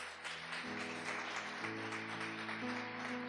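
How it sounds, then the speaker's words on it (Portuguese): Steady applause from a congregation at a church service fills the space, layered over sustained organ-like chords that shift every second or so. "Pode aplaudir Jesus."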